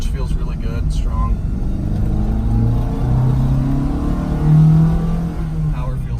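A 1972 Lancia Fulvia on the road with a strong-running engine and carburetors, a steady low engine drone building under acceleration with broad road rumble, heard from inside the car.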